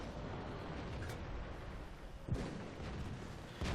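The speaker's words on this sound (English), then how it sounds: "Gotta watch out for that enemy artillery" Enemy artillery shells landing in World of Tanks, sharp distant blasts punctuating a constant low engine rumble, faint and spaced out with no talk.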